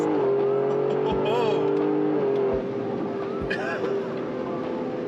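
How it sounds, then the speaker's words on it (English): A Ford Explorer ST with a Stage 4 tune drones and revs loudly from inside the vehicle while accelerating, with a few low, thumping exhaust pops and people talking over it. "there had a little exhaust pop"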